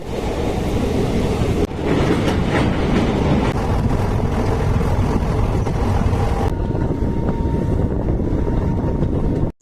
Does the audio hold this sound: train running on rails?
yes